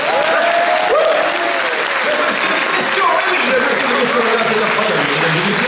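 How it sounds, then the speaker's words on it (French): Loud, continuous applause from a conference crowd at a video game talk at the Tokyo Game Show, filling the room for several seconds, with voices and shouts audible within the clapping. "On applaudit."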